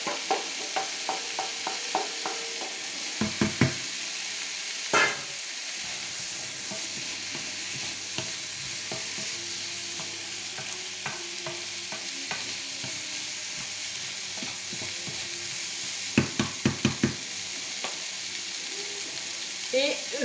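Beef pieces returned to a hot pan for boeuf bourguignon, frying with a steady loud sizzle throughout, punctuated by clattering stirs and knocks of a utensil against the pan.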